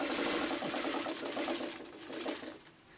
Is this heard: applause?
no